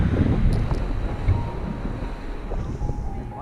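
Steady, blustery wind at the Mokulua Islands off Oahu, Hawaii, roars across the microphone with low rumbling gusts, alongside faint sounds of water, continuous and fairly loud throughout.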